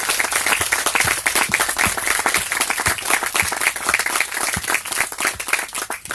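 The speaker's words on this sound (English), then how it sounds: "But a big round of applause, please," Audience applause for an expert panel at the GreenFest 2019 event, a dense, steady round of clapping from a crowd, loud and sustained throughout.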